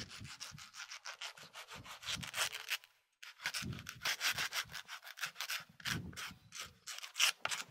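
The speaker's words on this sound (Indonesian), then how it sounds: "kita juga jangan lupa disikat juga pakai sikat" Stiff brush scrubbing the worn, thinning surface of a sandal being prepared for patching, with steady rapid back-and-forth rasping strokes in bursts, a brief pause near the middle, close and moderately loud with no talking.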